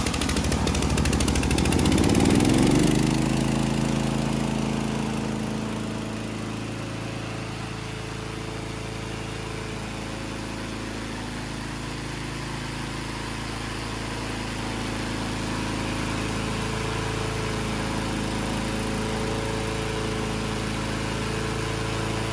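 A remote-controlled crawler brush mower (VTLM800 with snow blade) has its small engine revved up briefly, then settles into a steady, droning idle with a constant low hum that continues to the end.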